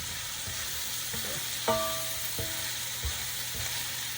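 Shrimp sizzle and fry in a pan for fried rice, a steady close crackling hiss broken by a few sharp clinks and knocks of a utensil against the pan, with no talking.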